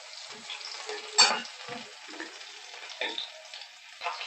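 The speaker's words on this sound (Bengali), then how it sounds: "এটাকে আমি এবার ভালো করে নেড়ে নেব, একটু ভাজা ভাজা করে নেব" Garlic and onion being stirred and fried in a pan, a faint sizzle under scattered scraping and clinking of a spatula, with a sharper knock about midway.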